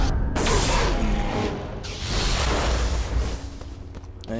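A lightning grenade explosion in Star Wars: The Force Unleashed II: a loud, crackling burst with whooshing noise swells and lingers, then fades to a softer rumble with a few tonal blips near the end.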